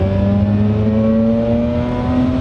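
A Mazda RX-8 rotary engine revving above 6,000 RPM holds a steady, smooth whine with rising harmonic tones, loud and close, no voices.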